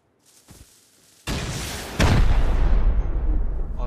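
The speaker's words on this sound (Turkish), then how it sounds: "Adam roket attı bana şaka gibi." A rocket explosion in the Rust video game lands as a sudden loud boom around the midpoint, followed by a second heavier blast with a long rumbling roar that carries on to the end, after a small pop early on.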